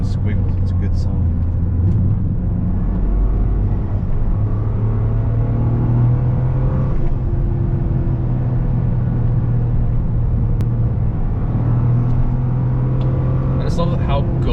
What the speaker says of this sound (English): I just love how good this car sounds.